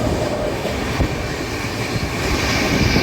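Kadapa to Guntakal superfast special express train running, a loud continuous rumble of wheels on rails with rhythmic clatter, heard close up from on board.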